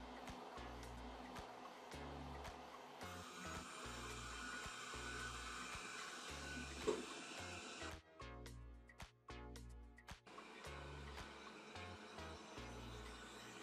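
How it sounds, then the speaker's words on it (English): A faint, steady motorized whir hums along with soft rhythmic low pulses as a 360 S5 robot vacuum moves across a floor. "Got it. Starting the 360 robot vacuum cleaner S5."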